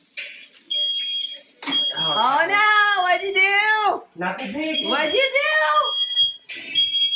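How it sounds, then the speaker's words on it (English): A fire alarm goes off indoors, its high steady beeping tone running through the clip under loud, excited voices talking over it. "he set off the fire alarm"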